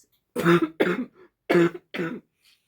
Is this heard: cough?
yes